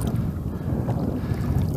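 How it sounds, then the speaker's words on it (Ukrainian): Steady wind buffets the microphone on a grey, foggy November morning aboard a fishing boat out for perch, a continuous low rushing roar with no voices. "Така дуже похмура погода, туман, вітер є."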